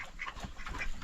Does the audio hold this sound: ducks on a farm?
yes